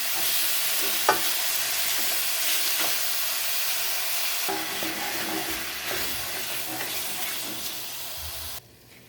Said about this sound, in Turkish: Bir 5 dakika kadar bu şekilde yüksek ateşte karıştırdık